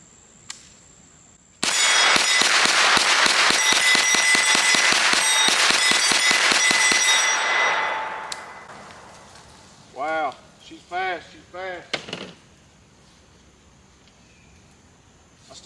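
Rapid string of sharp gunshots from a Smith & Wesson Response 9mm carbine firing Remington 124 grain rounds at a range, loud and close, a burst of about a dozen reports over six seconds, followed by brief speech.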